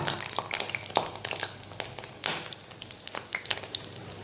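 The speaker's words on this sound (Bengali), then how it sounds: "আঁচটা কমিয়ে লাল লাল করে ভাজতে হবে যাতে ভেতরটা কাঁচা কাঁচা না থাকে" Food fries on low heat in a pan with a soft steady sizzle and small crackles and pops, close and fairly quiet, with no talking.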